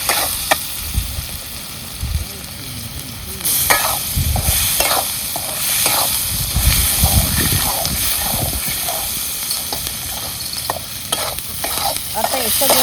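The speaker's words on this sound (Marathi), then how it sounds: "वाटण बी त्याच्यात चांगलं तळून घ्यायचं." Ground masala paste frying in fish curry gravy, a loud hissing sizzle close by with repeated rhythmic scraping and stirring strokes throughout.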